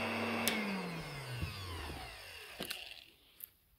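A vintage vacuum cleaner runs very quietly: a faint motor hum slides steadily down in pitch as it winds down, with a few sharp clicks and knocks near the end.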